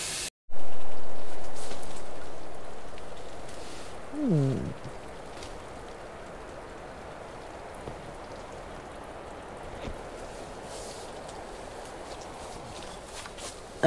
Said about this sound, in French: Apparemment, il commence à pleuvoir.